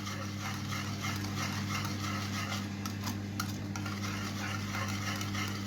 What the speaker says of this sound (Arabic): احط عليه الدقيق واحط حته زبده واحطه على النار، وابدا كده اقلب لغايه ما يغلي معايا